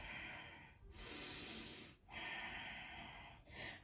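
Slow, audible breaths drawn in and out through the nose during a yoga session, soft and close, in three long, even cycles separated by brief quiet gaps.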